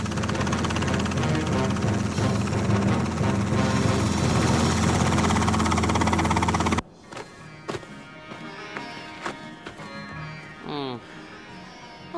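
A helicopter in a children's adventure cartoon roars with dense rotor and engine noise for about seven seconds, then cuts off abruptly to quieter scattered sounds.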